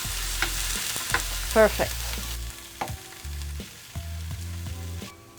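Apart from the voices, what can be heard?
tofu frying in a skillet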